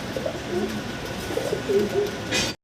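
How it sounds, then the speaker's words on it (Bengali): Fancy Lakkha pigeons coo close by, several soft, throaty rolling calls repeating in a loose rhythm over a faint background hum. "কবুতরটা হচ্ছে নিউ অ্যাডাল্ট আপনারা দীর্ঘদিন আল্লাহর মধ্যে ডিম বাচ্চা নিতে পারবেন এই জোড়া থেকে"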